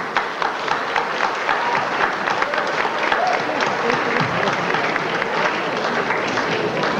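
An audience at a high school chorus concert applauds in a steady, full wash of clapping lasting several seconds, with a low crowd murmur underneath.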